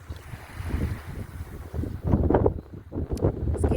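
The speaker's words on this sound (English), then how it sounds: "It's getting kind of windy." Gusty wind buffets the microphone in uneven bursts, rumbling low and loud over faint water in the background.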